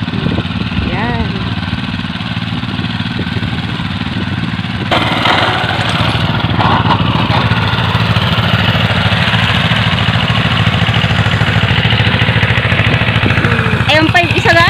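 A new Kubota farm machine's engine runs steadily while plowing, a continuous mid-pitched droning hum that carries through the whole stretch, with a brief rise in intensity partway in.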